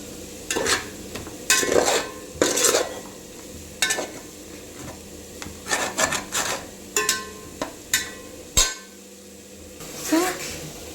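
A spoon scrapes and clanks rhythmically against a pan while fried potatoes are stirred with masala for aloo dum biryani, with a soft sizzle underneath.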